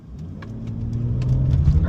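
BMW M cars launch from a standing start on a driving school track in Spartanburg, South Carolina, engines building into a rising, growing roar as they accelerate away together, loud and close.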